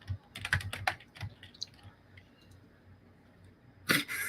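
Rapid, close clicking of computer keyboard keys in bursts, with a pause and a final flurry of keystrokes, light and moderately quiet with faint room noise.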